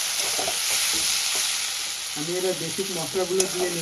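Fish with potato and eggplant frying in a pan, a steady close sizzle with scraping stirs running under someone speaking for most of the clip.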